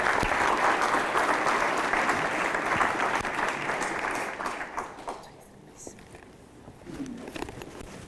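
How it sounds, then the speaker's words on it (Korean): An audience at a forum event applauds loudly with dense, sustained clapping, which fades out over the last few seconds as a voice comes in. "큰 박수로 보내겠습니다"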